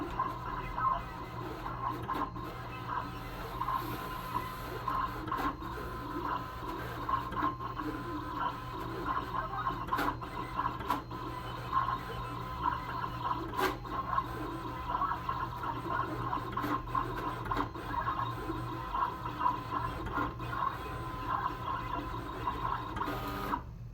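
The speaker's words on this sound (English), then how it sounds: "And then I am just going to press send to cutter." Siser Juliet 12-inch high-definition cutter running a cut, a steady continuous mechanical whir and hum with faint repeated clicks throughout, close and moderately loud with no speech.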